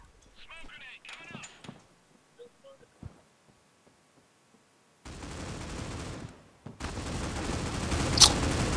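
Sustained automatic gunfire empties a full magazine in the Critical Ops shooter, a dense loud burst running unbroken through the latter half after quieter moments with brief voices.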